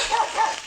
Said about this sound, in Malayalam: ഗൈസ്, ഇവിടെ പട്ടിയൊക്കെ ഉണ്ട്.